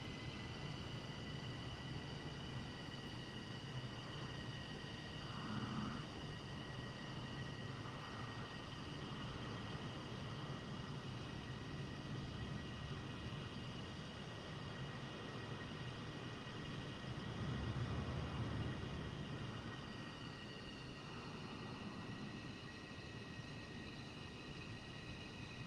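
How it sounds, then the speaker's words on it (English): An F-15E jet taxiing at RAF Lakenheath in a flight simulator game, a steady loud engine whine and rumble with high tonal hum, continuous and unchanging throughout. "We're looking fantastic as we taxi down."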